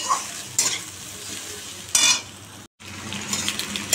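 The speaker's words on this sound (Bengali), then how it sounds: "কচুরি ভাজা হয়ে গেছে" Kachori frying in oil gives a steady close sizzle, broken by a few loud scraping, stirring bursts of a metal utensil against the pan and one brief dropout.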